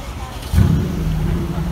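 A Pagani Zonda Riviera sports car's engine and exhaust kick in with a sudden low roar, then hold a loud, steady rumble on a Paris street as someone speaks over it.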